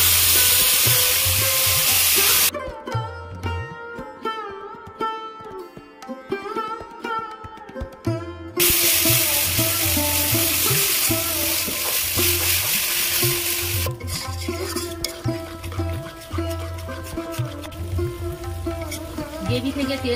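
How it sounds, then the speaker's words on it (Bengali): Spice paste and turmeric hitting hot oil in a pan, a loud continuous sizzle and frying hiss that fades for a few seconds and then surges back steady. "যে মশলাটা আমি পেস্ট করেছিলাম তেলের মধ্যে ঢেলে দেব।"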